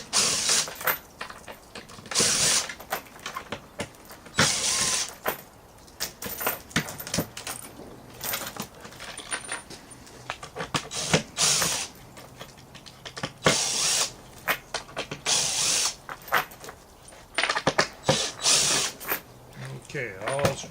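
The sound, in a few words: taking screws out of tire chain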